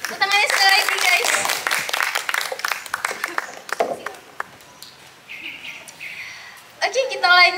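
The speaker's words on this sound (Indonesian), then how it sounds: "Tepuk tangannya sekali lagi guys." Audience applause at a community talk show, a burst of many hands clapping that fades after a few seconds, followed by quieter sounds and a voice speaking near the end.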